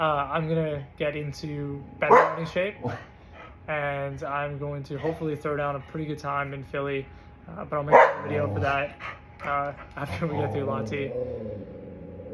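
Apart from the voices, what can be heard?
dog barking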